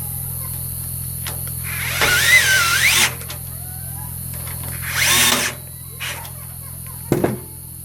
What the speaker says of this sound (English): Grab a screwdriver.